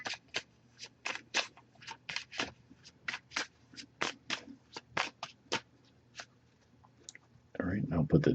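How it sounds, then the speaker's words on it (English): Oracle card deck being shuffled by hand, a long run of quick, crisp riffling bursts in a steady rhythm, close and fairly quiet, ending in a louder rustling scrape as the cards settle. "I'm going to give it a few more shuffles."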